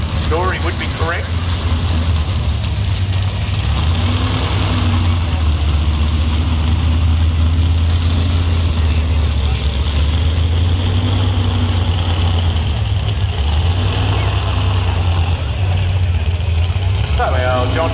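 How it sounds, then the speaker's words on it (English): A John Deere pro stock pulling tractor engine rumbles loudly and close by, idling with a heavy low drone and a few swells as it backs onto the sled. "So our John Deere, pro stock, backing up onto the sled."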